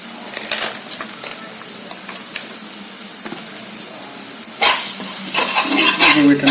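A chole mixture with amchur powder being stirred in a hot pan, with steady sizzling and frying hiss, scraping spoon strokes, and a louder burst of sizzle toward the end.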